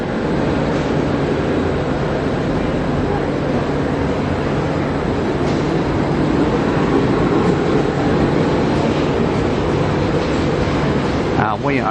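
The Tilt Train rolls steadily past a platform at close range, a continuous rumble with rail noise throughout and no break in the sound.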